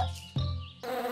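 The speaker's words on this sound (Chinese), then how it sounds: "啊，好多蜜蜂！" Cartoon bees swarm with a loud, wavering electronic buzz that shifts pitch in a few abrupt segments over about a second.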